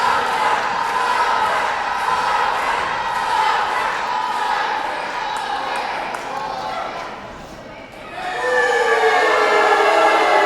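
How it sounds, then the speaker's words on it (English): Wrestling crowd at a Combat Pro Championship match chanting for their champion, a loud sustained roar of many voices that dips briefly then surges back, with a commentator's voice running over it. "listen to that crowd chant for their champion"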